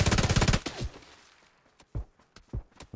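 A fast burst of automatic gunfire in the battle royale game PUBG opens the moment, loud and rapid, then gives way to scattered sharp shots and footstep-like thumps spaced apart.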